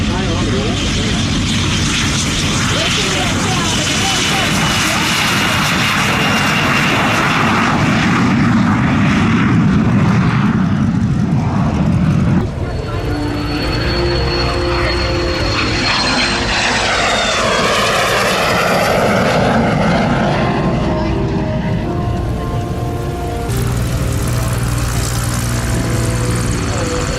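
A de Havilland Vampire jet passes at an airshow with a loud sustained engine roar that shifts in pitch as it moves by, and the engine stays prominent throughout.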